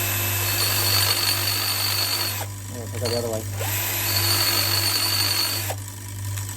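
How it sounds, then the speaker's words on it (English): A grinding stone spun by a hand drill grinds down an engine part on a CB Performance 2017cc long block, a steady high whine running under a low constant hum, with the tool note dropping out briefly midway as someone talks. "I've got a grinding stone and the hand drill, and I'm just going to do this."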